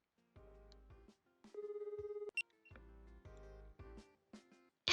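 A phone in the video game Collar X Malice rings quietly, a short electronic trill burst standing out among sparse soft game tones and clicks.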